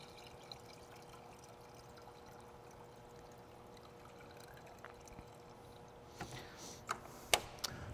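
Washer fluid rated to minus 25 is poured into a car's windshield washer reservoir, making a faint, steady trickle, with a few soft clicks and knocks near the end.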